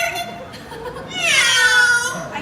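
A parrot imitates a cat's meow, a short rising, whining call standing out near the end over faint background murmur.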